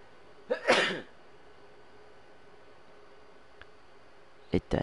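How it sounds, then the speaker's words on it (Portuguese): A single sharp sneeze bursts out near the start, close and fairly loud, followed by quiet room hiss and a brief throat sound at the end. "Eita, espirrei aqui."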